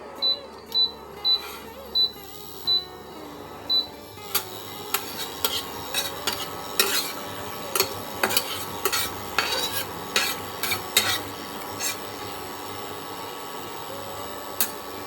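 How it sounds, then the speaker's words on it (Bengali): Cumin seeds sizzling and crackling in hot oil in a pan, the start of a raw banana fry. A steady frying hiss runs under sharp clinks of a utensil against the pan. Early on a repeated electronic beep sounds. "এই জিরেটা সুন্দর ভাজা হয়ে গেছে, ভালো জিরে ভাজার গন্ধও বেরিয়ে গেছে।"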